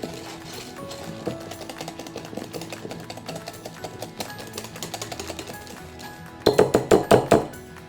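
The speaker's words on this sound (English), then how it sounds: "So now I'm just gonna run that whisk through just one more time to give it one last good beating." A whisk beats mascarpone cream custard for tiramisu in a bowl, giving quick rhythmic clicking and tapping strokes with no talk, ending in a few louder, sharper knocks.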